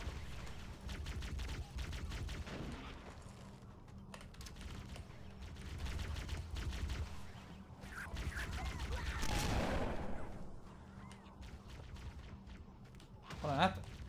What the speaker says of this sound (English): Sorry, I'm just shooting TNT at them.